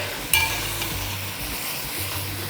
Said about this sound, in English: We're going to give this a nice mix.